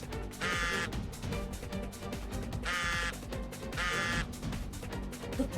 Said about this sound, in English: I hear her phone vibrating.